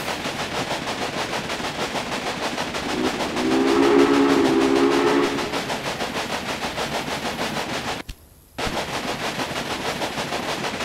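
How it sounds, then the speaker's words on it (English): A train travels in the Railway Empire video game: steady rhythmic rolling clatter runs throughout, a whistle-like tone rises briefly partway in, and a short drop to near silence breaks the sound near the end. "Your train is now traveling between Omaha and Norfolk."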